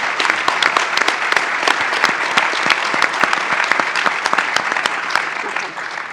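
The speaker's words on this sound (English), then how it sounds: "I think we need to applaud Rwanda's efforts and the people of Rwanda and the leadership of Rwanda." Sustained audience applause at a panel debate on Africa's development, dense steady clapping from a large crowd that continues throughout and eases slightly near the end.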